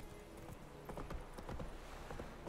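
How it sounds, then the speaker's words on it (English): Hooves of the horse Roach clip-clopping in The Witcher 3 video game, a quick irregular run of light hoof thuds at moderate volume with no talk. "Whoa there, Roach."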